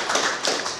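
Applause from the audience at an award ceremony honoring Saint Petersburg printing-industry workers: a short burst of dense, even clapping that holds steady for under a second.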